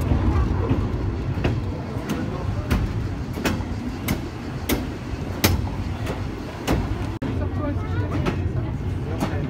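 Steam train on the Cévennes railway between Anduze and Saint-Jean-du-Gard rumbling steadily with regular sharp clacks of wheels over rail joints, heard from on board, with voices in the carriage.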